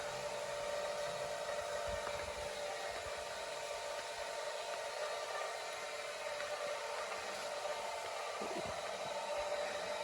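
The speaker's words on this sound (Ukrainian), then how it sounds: "Ось дивіться, як працює туманний полив у тепличці." A mist irrigation system runs in a small greenhouse, giving a steady, even hiss of fine spray with a faint mechanical hum beneath, unbroken and close for the whole stretch.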